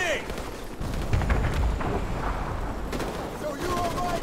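Gunfire aimed at a balcony in Call of Duty: Modern Warfare Remastered, a dense rattle of shots and booms running throughout with low rumbling impacts, mixed under battlefield voices.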